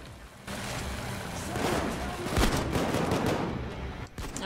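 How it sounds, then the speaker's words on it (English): Shotgun blasts ring out during a heist in the video game PAYDAY 2, a dense, loud run of booming shots and rattling gunfire packed together over a few seconds, with players' voices faintly mixed in. "Nothing like a shotgun headshot."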